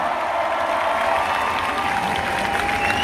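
Crowd applause at a live rap concert in Moni Lazariston, Thessaloniki, a steady wash of many hands clapping with some cheering, loud and continuous throughout.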